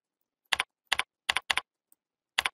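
Key presses on a computer keyboard, five short clean clicks in small clusters with quiet gaps between, close and fairly soft, no voices.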